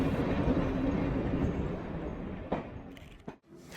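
Steady rumbling train noise with a broadband rush, fading and shifting near the end as if passing or slowing.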